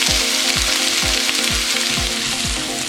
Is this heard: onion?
yes